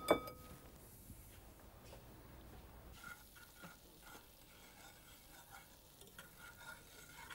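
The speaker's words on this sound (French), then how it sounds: "Mon beurre est fondu et je vais faire mon roux." Butter already melted in a pan with a roux of half butter and half flour being stirred, making a soft, steady sizzle with scraping and light clinks of the utensil, fairly quiet and close.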